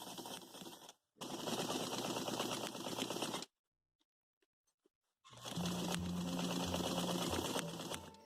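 A sewing machine stitches a quarter-inch seam down the front of a shirt, running in steady fast bursts with a brief stop near the start and a longer pause in the middle before it resumes.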